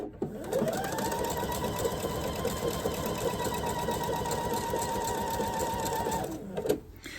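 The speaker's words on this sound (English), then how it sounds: "I sew off the midline. I don't sew right on the middle." A sewing machine stitches quilt pieces into half-square triangles, its motor whirring in a steady, fast, even run for about six seconds before stopping, close and clear with a faint television murmur behind.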